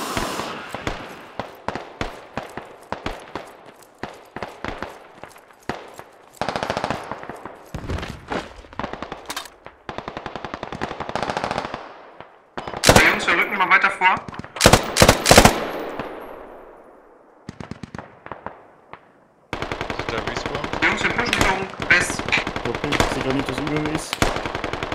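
A light machine gun fires in a military shooter game set in Logar Valley, with rapid bursts and long sustained fusillades, loud and close, with other gunfire and explosions mixed in and faint voices between bursts.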